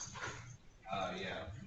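Dogs in a house's back area whimper and give short yips close by, the sounds rising and falling over a bed of people talking.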